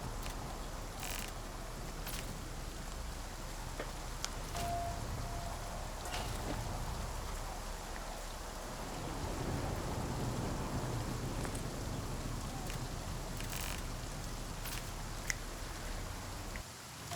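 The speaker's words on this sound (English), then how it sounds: "Just wait out the storm." Steady rain pours down through a storm in The Flame in the Flood, a constant wash of drops on surfaces. It stays at an even level the whole time, with occasional faint clicks and small mechanical sounds, and nobody speaks.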